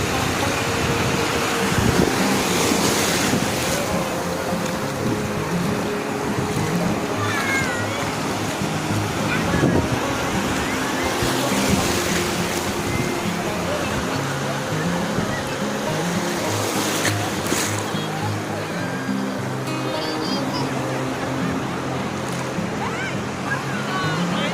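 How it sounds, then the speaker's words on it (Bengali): Big sea waves roll onto Tajpur beach in a continuous broad surf wash, with people's voices and excited chatter heard over it. "এই বড় বড় ঢেউ গো।"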